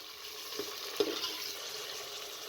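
Pieces of meat fry with garlic and ginger in a pan for a green bean curry, giving a soft, even sizzle. A couple of light stirring knocks come near the start.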